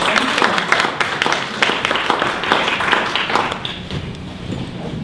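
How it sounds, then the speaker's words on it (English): An audience applauds to welcome a speaker at a meetup talk, with a brisk patter of hand claps, fairly close and steady, fading slightly toward the end. "Let's give her a big round of applause and welcome her."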